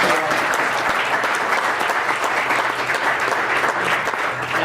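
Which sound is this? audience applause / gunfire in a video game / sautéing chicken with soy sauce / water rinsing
audience applause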